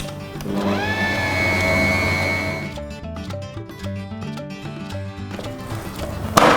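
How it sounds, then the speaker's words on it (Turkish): An electric mixer whirs steadily while whisking marble cake batter made with mineral water, a rising motor whine at first, then a clattering, rhythmic beat from the beaters knocking the bowl. No speech. "Çırpmaya devam."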